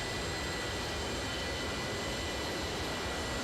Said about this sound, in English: We're really struggling getting the sound mix right because the plane is so loud